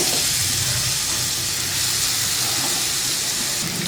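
Raw mango pieces go into a hot pan with peanuts and a little turmeric, producing a loud, continuous sizzling hiss that holds steady throughout, close up and without talk.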